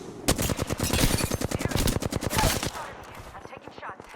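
Rapid automatic gunfire in Apex Legends, a loud dense burst of repeated shots lasting a couple of seconds before trailing off into quieter game sounds.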